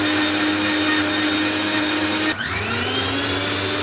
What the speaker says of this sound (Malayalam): മിക്സ് അടിച്ചിട്ട് വരാം.